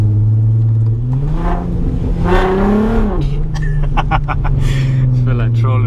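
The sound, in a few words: VW Golf R32 engine blipping throttle on downshift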